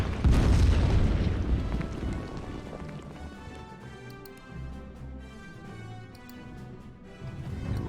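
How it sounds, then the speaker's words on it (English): Artillery strike in the Order of Battle war game: a heavy, booming blast at the start followed by a long, low rumbling roll of further explosions that swells again near the end. "Artillery strike here."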